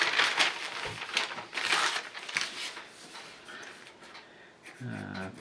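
Paper is grabbed and crumpled close by, a loud sustained crinkling and crushing rustle that fills most of the stretch, with a brief voice near the end.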